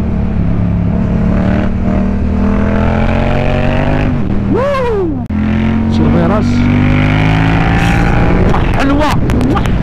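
A Yamaha MT-07 motorcycle engine drones loudly nearby, then revs up sharply twice in quick succession before settling back to a steady idle.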